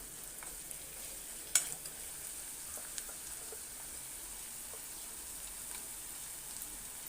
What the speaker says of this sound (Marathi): आता हे ना आपण कांदा चांगला ब्राऊन होईपर्यंत परतून घेऊया